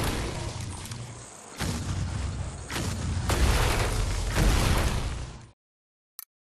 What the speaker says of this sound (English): Lodge sticky mines that wait for enemies to get close before exploding!